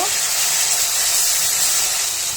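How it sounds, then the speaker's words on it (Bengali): Onion, garlic and ginger paste frying in a pan for a beef tehari base, heard as a steady, close, even hiss of sizzling without pauses. "এখন মশলাটা একটু ভাজা ভাজা করে নেব"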